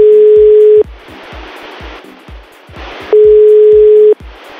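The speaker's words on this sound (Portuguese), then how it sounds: "Então a nossa missão é ligar pra Daniel." A telephone call rings out with two long, steady ringing tones, each about a second, separated by a pause, sounding loud and close over faint background hiss.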